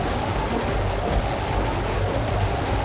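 Dense, continuous gunfire from the tactical video game Xenonauts 2, many overlapping shots in a steady loud barrage.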